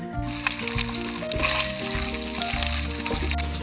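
Boiled eggs sizzling in hot oil for an egg masala curry, a steady close frying hiss heard under background music.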